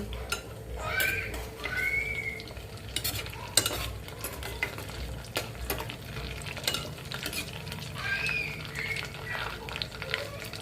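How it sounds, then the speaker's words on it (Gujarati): Spices sautéing in a pan with rice and moong dal for oil-free khichdi, with chopped green onion added. Soft sizzling runs throughout, broken by spoon stirring and scraping strokes against the pot and a few brief clinks. "થોડા મસાલા સાંતળી દઈએ"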